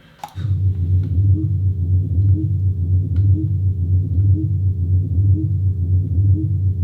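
A sustained, spacey industrial rumble effect for a sound-design sequence, a low droning hum that starts after a short click and holds steady and loud with faint pulsing.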